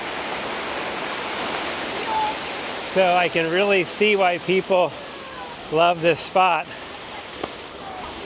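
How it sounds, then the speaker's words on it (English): Waterfall on Jeju island dropping straight into the ocean, a steady broad rushing roar throughout, with a person talking over it partway through. "It is a really pretty waterfall."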